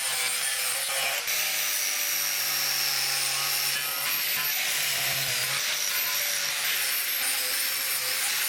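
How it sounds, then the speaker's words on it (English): Hand or power sanding along the edge of a woodworm-damaged wooden shelf board, a steady, loud, continuous abrasive hiss with a faint low hum, running unbroken throughout with no talking. "I was trying to sand away some of the damage from the woodworm and smooth up the edge of this piece of wood"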